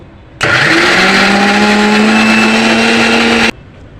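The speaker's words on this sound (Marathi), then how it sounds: "जोपर्यंत आपल्याला बारीक वाटत दिसत नाही आहे तोपर्यंत आपल्याला हे ग्राइंड करायचं आहे" A mixer grinder runs steadily for about three seconds, grinding raw mango chutney Malvani style with no water added. The sound is a loud, close motor whine with rising tones, starting and stopping abruptly.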